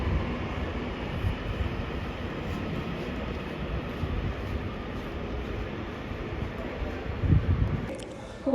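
A British Rail Class 331 electric multiple unit pulls out of Stoke-on-Trent station, running empty toward Crewe, a steady low rumble of moderate loudness throughout with no talk over it.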